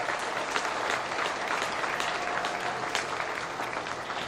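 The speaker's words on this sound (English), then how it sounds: "if we give each and every one of these exhibitors out here a round of applause" A crowd at an outdoor beef cattle show applauds the exhibitors, with dense, even clapping sustained at a steady level throughout.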